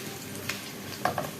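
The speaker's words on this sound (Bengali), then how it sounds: "পেঁয়াজ কাঁচামরিচ সবগুলো উপকরণতে ভালো করে ভাজা হয়ে গেছে" Onion and green chili sizzle steadily in a pan of hot oil while being stirred, with a few sharp clinks of a spatula against the pan for taro-leaf greens.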